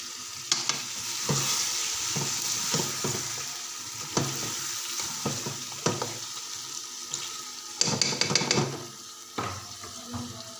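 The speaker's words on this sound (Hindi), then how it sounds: "तो चले चिकन को अच्छे से फ्राई करते हैं।" Chicken fries in a pan with dried coriander while a spoon stirs and scrapes it, giving a soft, steady sizzle broken by scattered clatters and scrapes, with no talking.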